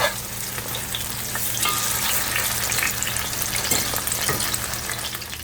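Jamaican ackee and saltfish fritters fry in hot oil with a steady, close crackling sizzle that holds an even level throughout, with no voices.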